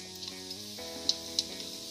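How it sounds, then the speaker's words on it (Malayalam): Raisins fry in ghee with a bright, steady sizzle and a couple of small sharp pops, heard close beneath background music. "ക്രിസ്മിസ് ഒന്ന് ഫ്രൈ ചെയ്തെടുക്കാൻ വേണ്ടി നമ്മൾ നെയ്യിലാണ് ഫ്രൈ ചെയ്തെടുക്കുന്നത്"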